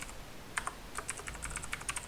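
Someone types a password on a computer keyboard, a quick irregular run of crisp key clicks close by, with no talking.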